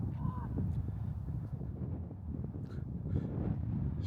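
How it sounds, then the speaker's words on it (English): Strong wind gusting across coastal sand dunes on the Oregon coast near Florence, a steady broadband rush buffeting the microphone throughout with a few faint bursts of a voice underneath. "It's pretty windy"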